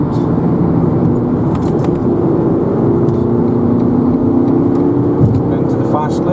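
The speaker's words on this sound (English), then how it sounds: "Into the fast lane, get a bit of speed up." A Ford Ka picks up speed in the fast lane of a bypass, heard from inside the cabin: a steady, loud engine drone with a rising hum over road rumble.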